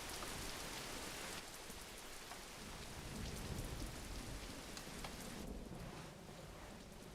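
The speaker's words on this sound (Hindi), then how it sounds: "इस बारिश को भी अभी आना था।" Steady heavy rain pours down in an animated film scene, with low thunder rumbling beneath the hiss and the downpour easing slightly near the end, with no talk.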